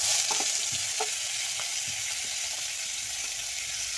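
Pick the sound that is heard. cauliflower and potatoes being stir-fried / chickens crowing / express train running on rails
cauliflower and potatoes being stir-fried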